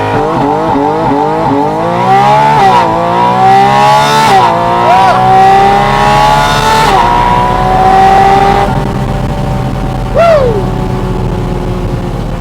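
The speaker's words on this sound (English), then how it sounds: "once it has launch control, you just let off the brake" A Porsche Spyder RS launching under launch control, the engine revving hard through rising gears with sharp shifts between sweeps, loud and close from inside the car, with a brief tire chirp near the end.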